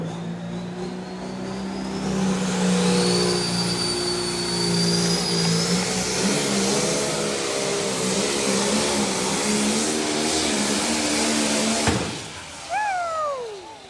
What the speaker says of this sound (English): Turbocharger by the sounds.